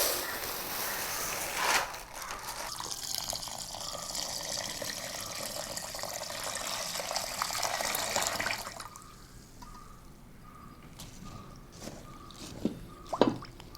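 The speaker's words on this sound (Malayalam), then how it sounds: "ഇനി കുറച്ച് അരി വെള്ളത്തിൽ നമുക്കിടാം" One kilogram of white basmati rice is poured into a bowl of water for soaking before a Kashmiri chicken biryani, giving steady watery rushing and swishing that then settles into quieter drips and light clinks.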